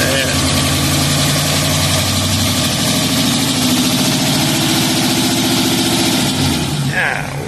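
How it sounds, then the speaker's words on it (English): A 1951 Mercury flathead V8 engine idles loudly and close by, a steady, even rumble that fades slightly at the end, with a voice briefly audible. "look how smooth that engine runs"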